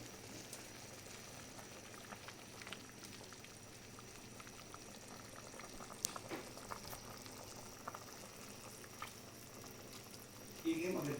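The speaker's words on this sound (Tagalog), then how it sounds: "malapit ang kumulo siya. Tinakpan ko guys para madaling maluto, madaling lumambot siya." Pork sinigang, a sour Filipino soup with pork ribs, simmering in a covered pot, a faint continuous bubbling hiss with occasional small pops and a brief clatter near the end.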